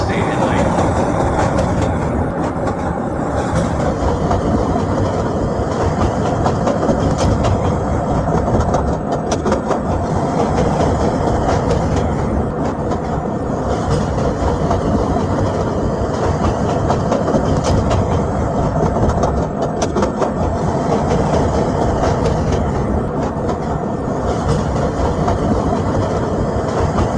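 A CTA Brown Line MK 3200 series train runs through the Loop in a Roblox train simulator game. The steady, loud rumble and clatter of the moving train carries on without a break, with an announcement voice faintly present in the mix.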